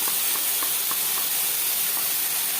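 Onion and garlic fry in a pan with a loud, steady sizzle, a dense hiss that holds without a break from start to finish.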